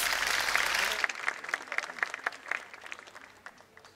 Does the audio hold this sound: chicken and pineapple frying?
no